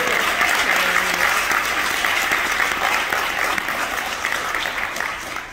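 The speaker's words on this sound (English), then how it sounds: "Let's show the faculty, staff, parents, and supporters some love and give them a round of applause." Sustained, dense applause fills a graduation celebration hall as the crowd honors faculty, staff, parents and supporters, broad and even before tapering slightly at the end, with faint voices underneath.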